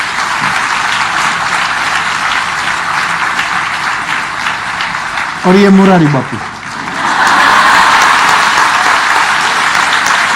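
An audience at a Ram Katha gathering breaks into broad, sustained applause, loud and steady across most of the stretch, pausing briefly while someone speaks in the middle.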